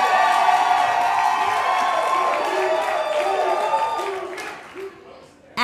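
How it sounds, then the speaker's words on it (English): Theater graduates at a university arts commencement ceremony cheer, with a loud crowd roar of whoops and shouts mixed with applause that swells and then fades out toward the end. "I like that theater has a cheer."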